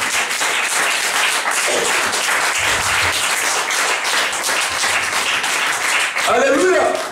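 A church congregation applauds and cheers for Jesus in a dense, sustained burst of clapping with crowd voices throughout, swelling louder near the end.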